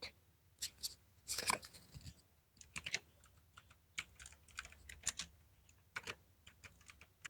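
Text typed on a computer keyboard while editing a Shopify theme heading, with quiet close key clicks coming in irregular short bursts and scattered single taps, no talk.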